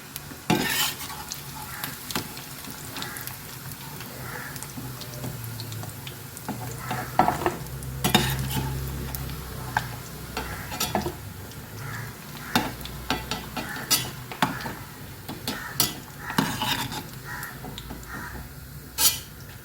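Fish coated in masala frying in hot oil in a pan, a steady sizzle with intermittent stirring and utensil clatter, fairly close, no voices.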